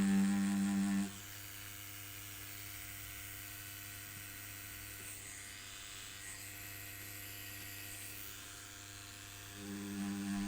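A tattoo machine running at 8 volts, a steady close electric buzz that holds evenly for about nine seconds after a brief louder start and rises again near the end, with no voices.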